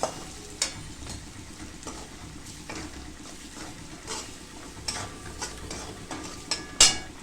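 Spice mix of coriander-cumin powder and salt stirred in a pan for pav bhaji, with a low steady sizzle and soft scraping strokes at irregular intervals and one sharper clink near the end.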